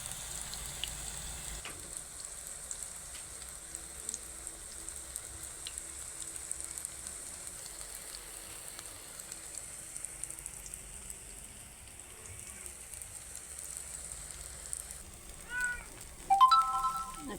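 Eggplant slices with a crispy fry coating sizzle in hot oil, a soft, steady, rain-like crackle running throughout at low volume, with a brief electronic chime near the end.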